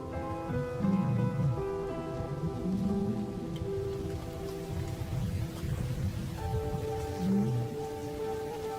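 A thunderstorm breaks over the African savanna, and heavy rain hisses steadily throughout, partly under a sustained orchestral music score, with no clear thunderclap standing out.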